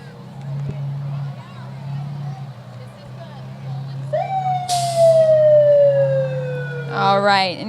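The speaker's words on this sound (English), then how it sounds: "This is a fire truck dedicated to those that was lost in the line of duty." A fire truck honoring fallen firefighters rolls through Belmont's 73rd annual Christmas parade. Its siren rises, then winds down in a long falling wail and breaks into a fast warbling yelp, loud over engine rumble and crowd murmur.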